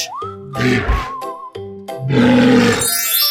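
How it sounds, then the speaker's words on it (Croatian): A deep, bellowing animal roar in two long bursts, loud and close, with a whistling tone rising near the end. "Morž."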